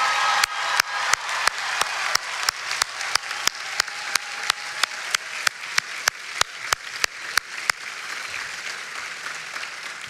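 A homecoming crowd at NC State applauds astronaut Christina Koch, with one loud, evenly spaced clap punching through the steady background clapping before the applause softens in the last couple of seconds.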